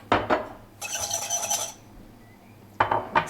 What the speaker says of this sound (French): Et là, on va mélanger.